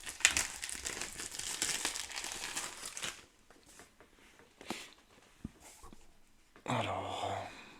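Packaging of a card game box being unwrapped: loud crinkling and tearing of plastic film up close for several seconds, then quieter rustles and handling taps, ending in a burst of crackling wrap.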